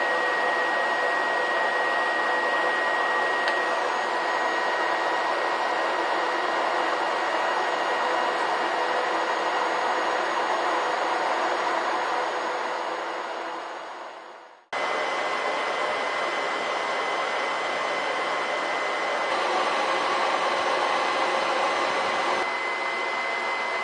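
Warm air blowing steadily from a homemade hot-water air heater fan, a continuous broadband whoosh that briefly drops out mid-way, then resumes just as loud and close.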